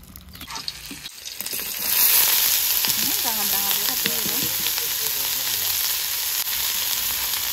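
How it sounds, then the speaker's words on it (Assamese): Banana flower pieces frying in a pan in a village kitchen, a steady close crackling sizzle that swells after the first two seconds and holds, with faint voice-like sounds drifting through the middle. "ইফালে কলডিল ভাজি চাব পাৰে কি মজাকে ভাজিছে"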